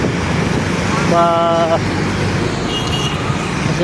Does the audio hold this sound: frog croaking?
no